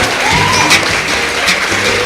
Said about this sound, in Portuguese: Uma salva de palmas então pro Júlio.